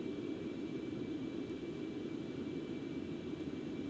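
Concorde jet engines at full throttle in the X-Plane 11 flight simulator, a steady, dense low roar with a thin high whine held throughout, and no talk.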